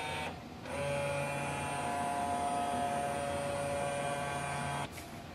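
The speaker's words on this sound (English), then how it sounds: "Next step is to do the scanning." A Canon Pixma G670 printer scans a document, giving a steady mechanical hum with a sustained whine that runs for about four seconds between brief quieter moments at the start and end.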